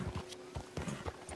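Horse hooves in Red Dead Redemption 2, a quick run of clip-clop hoofbeats in an uneven rhythm, fairly close and moderately loud, with no talk.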